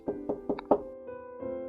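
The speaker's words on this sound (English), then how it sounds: "when there was a knock" Four sharp knocks on a door in quick, even succession, close and distinct, followed by a low sustained musical tone.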